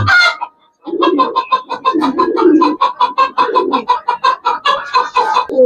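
Repeated rhythmic bird calls, close and loud, a steady series of throaty coos or clucks continuing without pause after a brief opening burst.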